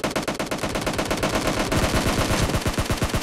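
Loud, rapid automatic gunfire in a PUBG Mobile team deathmatch, one long unbroken burst of closely spaced shots hammering on without pause and growing slightly heavier toward the end.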